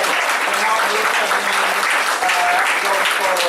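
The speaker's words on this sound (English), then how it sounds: "take a round of applause" A meeting audience at a Q&A on an Article V constitutional convention gives a loud, sustained round of applause, with a voice speaking briefly over the clapping.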